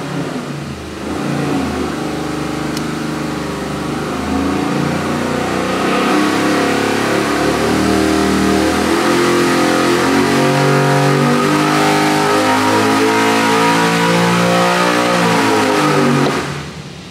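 A 441 cubic inch LS3 V8 with 12.0:1 compression on a dyno, revving loud and close in one long sustained pull, its pitch climbing steadily before cutting off at the end.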